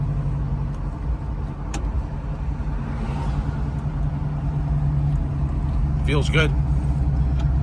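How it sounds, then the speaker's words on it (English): A 1978 Pontiac Trans Am with radial tuned suspension cruising down a road, its engine a steady low rumble with road noise throughout, while someone speaks briefly over it. "it feels like a new car driving down the road"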